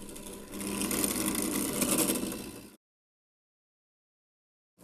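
A powered drill bores holes in a stainless steel banjo hoop, a steady, close whirring burr lasting about two seconds before cutting off into silence.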